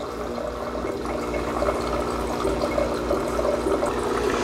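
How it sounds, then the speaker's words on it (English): A Breville Precision Brewer's pump runs steadily, pushing water into the carafe with a continuous close rushing, gurgling hum that holds level throughout with no talking. "I can hear a pump kicking on and water's going into the carafe"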